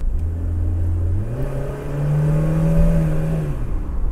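A BMW E30 engine accelerates on a run around the block, its note rising, then holding a steady pitch before easing off, heard from inside the car with no talk.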